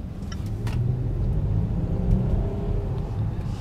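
A Land Rover Discovery HSE Td6 cruises on the road under cruise control, giving a steady low engine and road rumble from inside the cabin, with no talk over it.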